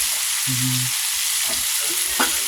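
Pesa fish fries in a hot pan, with a dense, continuous sizzle and crackle heard close up and a few brief tonal clinks under it, no talking.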